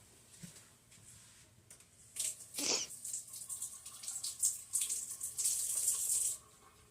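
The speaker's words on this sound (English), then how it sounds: "And I just got to rinse my hands off." Water from a kitchen tap runs steadily for a few seconds as hands are rinsed during home cooking, preceded by faint clinks of handling.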